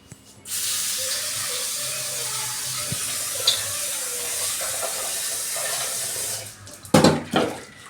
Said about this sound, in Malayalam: നമുക്കിതിനൊന്ന് കഴുകി എടുക്കാം.